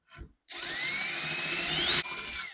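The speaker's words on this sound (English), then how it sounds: "I'm going to drill a hole through the rubber so the bolt can go through" A power drill with a 1/4-inch bit spins up after a brief knock and bores through soapy rubber for a bolt hole on a Ford Maverick bed rack, a loud steady whine rising in pitch before easing off.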